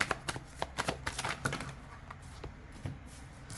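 Tarot cards are shuffled by hand in rapid bursts of riffling and flicking, close and crisp, with brief pauses between runs.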